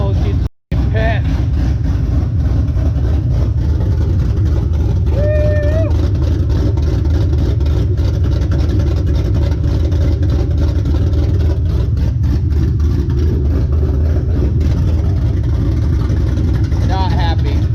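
A race car engine idles low and rough, a loud, steady rumble with a lumpy pulsing beat throughout, heard up close while someone talks over it.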